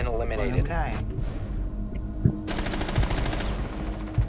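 Automatic gunfire in the tactical shooter game Rainbow Six Siege, rapid bursts and sharp single shots crackling close by, mixed with excited players talking over the shooting.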